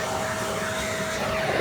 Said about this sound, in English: the vacuum was turned on